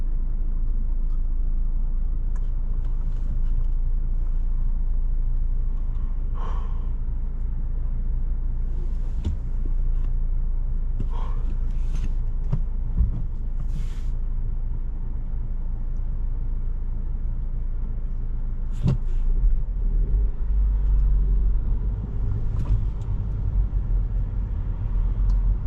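A manual VW Jetta driving on wet roads in the rain, a steady low engine and road rumble heard from inside the car with occasional bumps and no talk.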